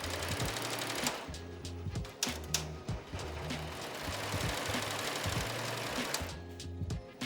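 An embroidery machine stitches a design onto a clothing sleeve, a steady close rhythmic clatter of needle strokes running throughout with brief stops and restarts.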